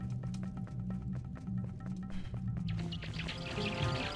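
Birds in The Legend of Zelda: The Wind Waker chirp and tweet in quick repeated bursts over a steady in-game music and ambience bed, fairly close and persistent, with no talking.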